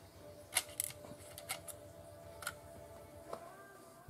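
Small metallic taps and ticks from a punch driving out a pin on a Winchester 1892 lever-action rifle; faint, scattered clicks, close up, in a quiet room.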